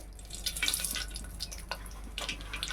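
Mustard seeds dropped into heated oil for a Telugu okra tamarind stew, giving a scattered, bright sizzle and quick popping crackles near the mic, with no talk over it.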